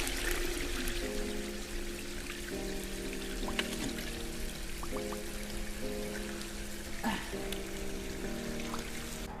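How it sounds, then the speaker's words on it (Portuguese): Water runs steadily through small irrigation canals in a field, a continuous quiet gurgling flow with faint splashes and trickles, low and even throughout. "a água vai correr por cada um desses canais."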